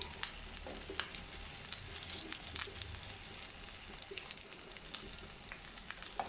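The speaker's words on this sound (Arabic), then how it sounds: "هلا بلش البصل يتقلى معي ليصير لونه ذهبي" Onion sizzles and crackles in hot oil in a pan, frying toward golden, with a dense, steady hiss and scattered pops, fairly faint and heard on its own without talk.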